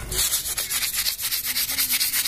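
Sandpaper rubbed back and forth over wood in quick, steady strokes, a loud rasping scrape repeating roughly every tenth of a second, close up with no talking.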